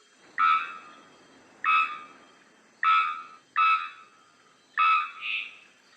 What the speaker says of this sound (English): The unusual song of the three-wattled bellbird, from which the species gets its name, resembles metal being struck